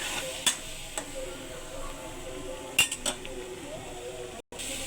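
Shrimp sautéing in a pan, with a faint steady sizzle beneath scattered utensil clicks and scrapes as it is stirred, a few sharper knocks against the pan standing out.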